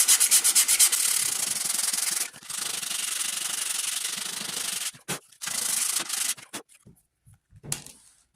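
Sandpaper rubs briskly over the wooden stock of a .50 caliber Hawken rifle being built, a close, loud, raspy scratching in rapid back-and-forth strokes that breaks into short, separate passes toward the end.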